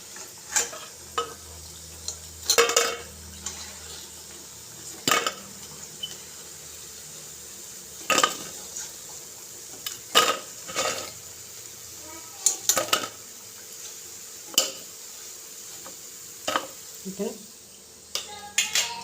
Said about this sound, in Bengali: দেখেন বড়াগুলি ভাজা হয়ে গেছে, এখন নামিয়ে নেব।